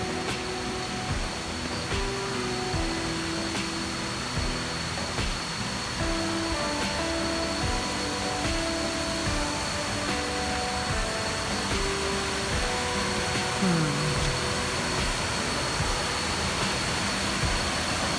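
Waterfall at Vachirathan Falls on Doi Inthanon, a steady broadband roar of falling water heard close by, continuous and unbroken throughout with no talking.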